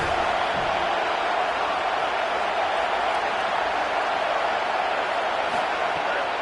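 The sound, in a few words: crowd roaring in a college football video game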